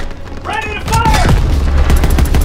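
A tank cannon fires during a WWII tank battle in Aachen, Germany in Call of Duty: WWII. A short shouted voice leads into a heavy boom with rumbling gunfire and battle noise.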